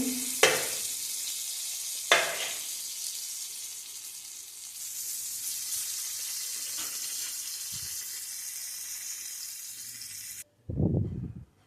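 Masala pav bread frying in butter on a hot pan, a steady bright sizzle with a couple of sharp crackles as butter hits, continuing for several seconds before stopping, then a short low scrape or stir.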